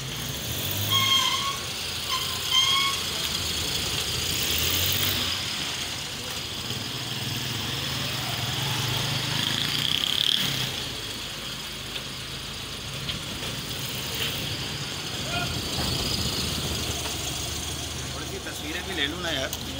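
A 1984 Suzuki FX small car's engine runs at idle with a low steady hum, revving a little as it moves back and forth, while someone talks over it throughout.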